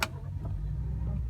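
The engine of a 2019 Ford F-150 Limited fires up with a short starter burst and then settles into a steady low idle heard from inside the cab.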